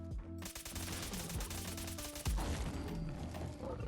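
Fully automatic bursts from a G67 battle rifle in Fallout 4, a rapid steady stream of loud close shots lasting several seconds with game sounds mixed in, no talking.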